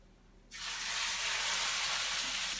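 A rack of lamb goes fat side down into a hot pan, bursting into a loud, sustained sear that starts abruptly from near silence and holds a broad, steady hiss.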